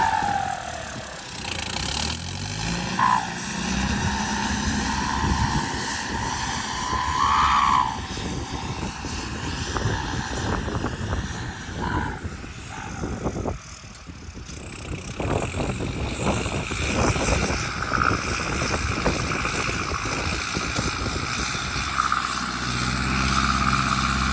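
A car engine fitted with a Mitsubishi MU4902 turbocharger runs loudly and up close, a dense throbbing roar with rising and falling whistles and hiss from the turbo across the whole stretch, with no voices.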